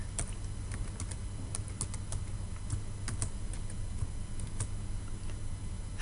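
Password being typed on a computer keyboard, a quick irregular run of soft close key clicks over a low background hum.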